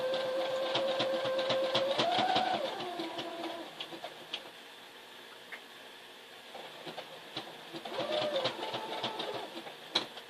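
A sewing machine runs a zigzag stitch on flag fabric in steady bursts, loud at first, then fainter and intermittent before picking up again near the end, with no talk.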